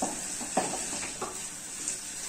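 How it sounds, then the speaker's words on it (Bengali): Onions fry in a pan for a chicken curry, a steady soft sizzle and hiss running throughout, broken by a few light scraping stirs of a spoon against the pan. "সো পেঁয়াজটাকে আমরা 2-3 মিনিট ধরে এভাবে ফ্রাই করে নিচ্ছি"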